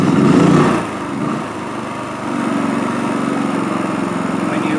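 A Champion 4500 generator fed from a remote fuel tank fires up with a loud initial burst and then settles into a steady, close engine drone that runs on for several seconds.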